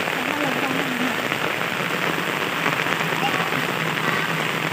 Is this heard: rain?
yes